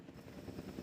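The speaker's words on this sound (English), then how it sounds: "it's so goofy the way they get transported by helicopter like this" In the Jurassic World Evolution 2 game, a helicopter carrying a dinosaur gives off a low, steady rotor drone at moderate volume, heard alone without any voices.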